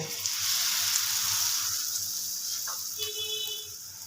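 A battered sandwich with potato filling sizzles steadily in a frying pan, a loud, close frying hiss with a few faint clinks toward the end.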